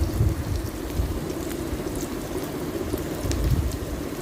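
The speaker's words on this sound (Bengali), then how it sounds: "পেঁয়াজটা ভাজা ভাজা হচ্ছে" Onions frying in hot oil in a pan, heard as a steady, dense sizzle with faint crackles, close and fairly loud, with no other sounds on top.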